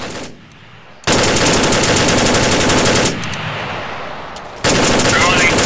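Sustained automatic gunfire from weapons in the military shooter Arma 3, loud and close, coming in long unbroken bursts separated by short pauses.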